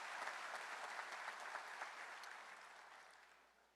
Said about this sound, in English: So how about a round of applause for everybody that supported them?